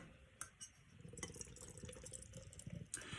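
A dill pickle sour beer is opened and poured into a glass, giving faint, steady fizzing and liquid pouring with a couple of small clicks near the start, heard close and alone.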